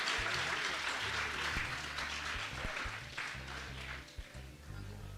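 Children at a school event applaud their guests in a steady, continuous clapping that fills the room, with low rumbling background sounds underneath.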